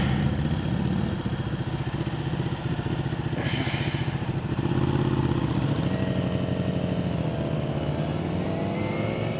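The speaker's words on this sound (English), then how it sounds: "So we're going, we're just going to chop the throttle real quick, put it in second." A motorcycle engine revs and drops as the rider chops the throttle for clutchless shifts up through the gears, with a loud rumbling drone that rises and steps in pitch across several shifts.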